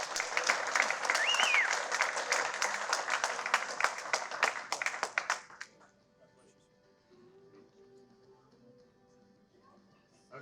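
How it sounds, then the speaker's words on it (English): Audience applause for a veterans' care-package organizer at a golf charity banquet, dense clapping for about five seconds before it stops abruptly, leaving quiet room noise and faint murmuring. "Mr. Jim Kruse, round of applause."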